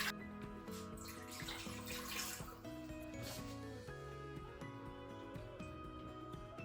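Water poured into the pot of a pressure cooker before lasagna goes in: a faint, continuous splashing trickle with gurgling, running steadily the whole time.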